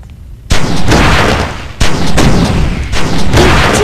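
Weapon fire at a training drone on a firing range in the video game Oni: two loud, sustained bursts of rapid shots, the first starting abruptly and the second after a brief dip, each close and heavy.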